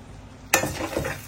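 Sambal is poured over fried sardines in a kitchen, a sudden wet splatter and sizzle followed by a few softer spoon scrapes and drips against the dish, close and brief.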